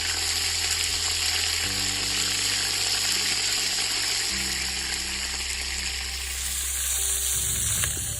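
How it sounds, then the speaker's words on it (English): Meat is searing in a pot over a campfire, giving a steady loud sizzle and hiss under a continuous low hum whose pitch steps between levels, with no talking. "Once all the meat is seared"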